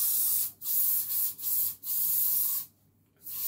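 Shockwaves hair lacquer sprays from an aerosol can in a string of close, loud hissing bursts, several short puffs followed by a longer one, with no talking.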